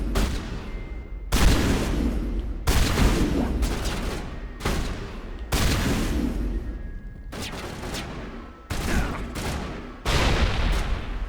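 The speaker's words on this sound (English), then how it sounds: "We're not accurate at all with a shotgun, but you don't really need to be accurate with a shotgun." Heavy shotgun blasts from a sci-fi shooter, Mass Effect, boom out roughly every second or so, loud and close, each followed by a short rumbling tail over continuous combat noise.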